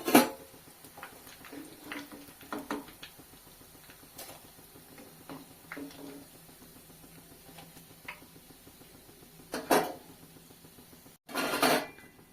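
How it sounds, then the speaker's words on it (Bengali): Fried chops lifted from the pan onto a plate during Iftar cooking, giving scattered light clinks and knocks of utensils and dishes, with a few louder clatters, against a quiet kitchen background. "একটা প্লেটে উঠিয়ে নিচ্ছি।"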